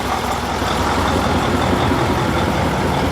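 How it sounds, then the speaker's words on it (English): A Mack Superliner road train truck with a 702-horsepower engine rumbles steadily and loudly nearby, a continuous heavy diesel drone at a vintage vehicle show. "The enormous Mack road train. Superliner. 702 horsepower."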